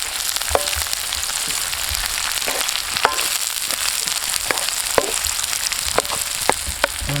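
Onions and shallots sizzle in hot oil with ginger and garlic while a Kerala-style fish pollichathu masala is prepared, a steady close crackle with sharp pops and occasional stirring clicks throughout, no voices.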